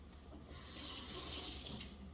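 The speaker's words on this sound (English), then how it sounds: "let's rinse it out" A teaspoon is rinsed under a running kitchen tap while baking pumpkin chocolate chip cookies, a steady close rush of water that starts abruptly and flows for over a second, with no talk.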